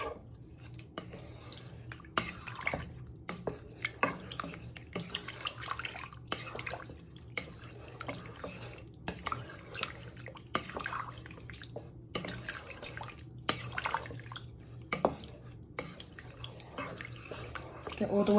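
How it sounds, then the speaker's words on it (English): Beef stock being stirred in a pan for a steak and ale pie, with wet sloshing strokes and light taps of a utensil repeating close by under intermittent talk. "And you want to give that a bit of a stir."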